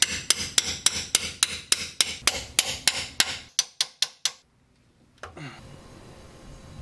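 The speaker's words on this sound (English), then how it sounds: "I'm going to go ahead and start chiseling away." A hammer drives a chisel against a rusted front differential bushing on a Land Cruiser, about fifteen sharp metallic blows in steady rhythm. A short silence follows, then a scraping, rattling noise.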